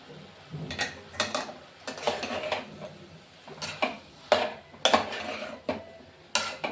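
A metal utensil stirs masala with eggplant in a pot, making repeated irregular clinks and scrapes against the metal at close range, with no talking.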